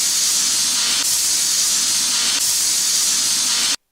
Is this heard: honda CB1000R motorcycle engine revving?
no